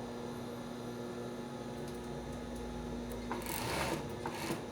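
Sewing machine stitching a swimsuit, lining and fabric sewn together with elastics; a steady low mechanical whir runs throughout, growing louder and busier toward the end as the stitching speeds up.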